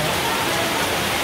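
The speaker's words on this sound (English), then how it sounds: "It's pouring." Heavy rain pours down in Polopangyan as a dense, loud, continuous hiss with no pauses.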